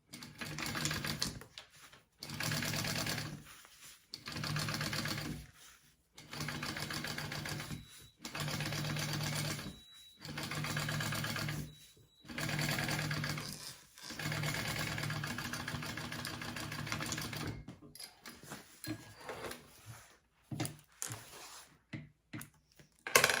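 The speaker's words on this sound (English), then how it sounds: "I'm going to top stitch along my lining and my seam allowance right there" A sewing machine top stitches along a bag's lining and seam allowance, running in repeated bursts of rapid mechanical chatter a few seconds long, separated by short pauses, fairly quiet and with no talk.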